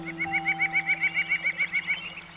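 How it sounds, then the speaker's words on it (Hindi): A bird calls outside a quiet room in a rapid, even series of about a dozen short bright chirps over a faint steady hum, with nobody speaking. "कोई चिड़िया की आवाज है,"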